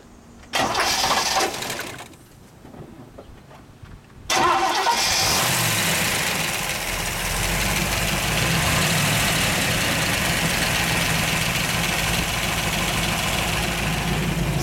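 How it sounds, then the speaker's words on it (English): A 1962 Chevrolet Corvette convertible with solid lifters cranks with a short starter whir, catches on the second try and roars to life, then settles into a loud, steady idle close by. "Let's start her up, just so people can hear a little bit of this."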